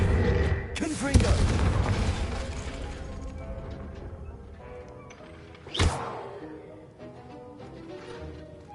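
Fiery explosion spell cast in Hogwarts Legacy: two sharp, booming blasts, one early and one later, ring out over a continuous bed of game sound and music.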